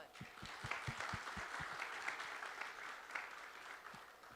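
A conference audience gives a round of applause. The clapping is faint and distant, with a few louder individual claps near the start, and it continues steadily for a few seconds.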